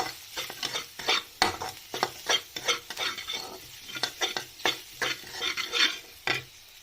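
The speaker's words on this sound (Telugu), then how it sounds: "వేసిన తర్వాత ఇది మళ్ళీ మిక్స్ చేసుకోండి." A spoon stirs and mixes sandwich filling ingredients in a bowl with oregano and seasoning. Rapid rhythmic scraping and clicking strokes repeat closely and steadily, with no voices.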